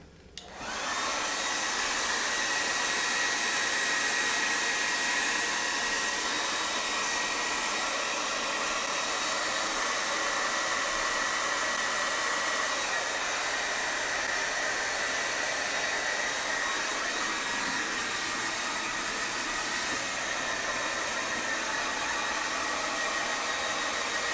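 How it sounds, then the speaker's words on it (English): A salon blow dryer drying hair roars steadily and loudly from start to finish, a constant rushing whoosh with a faint motor whine and no talking. "So when you turn your blow dryer on"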